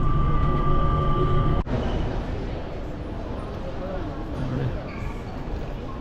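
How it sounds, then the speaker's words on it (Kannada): Free Sky Train shuttle at a Singapore airport running overhead between Terminal 3 and Terminal 2, a steady low rumble with a brief sharp break partway through, heard from nearby amid terminal ambience and people talking. "ಈಗ ಇಲ್ಲಿಂದ ಫ್ರೀ ಸ್ಕೈ ಟ್ರೈನ್, ಅದು ಟರ್ಮಿನಲ್ 2 ಹೋಗ್ತಾ ಇರೋದು ಮೇಲೆ"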